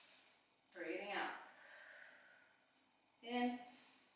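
During a Pilates mat exercise, two audible breaths sound close and soft, a long inhale followed by a shorter exhale, with quiet pauses between.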